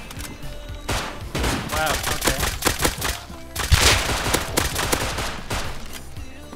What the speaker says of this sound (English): Ooh, someone's shooting at me.